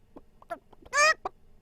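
A storyteller's voice imitates a rooster crowing in a folk tale: one short, bright, drawn-out call rising above quieter narration.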